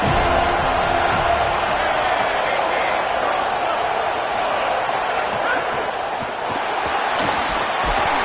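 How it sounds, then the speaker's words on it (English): A dense roar from a football stadium crowd, broad and sustained throughout, loud and continuous with no distinct cheers standing out. "This crowd trying to make life miserable for this offense."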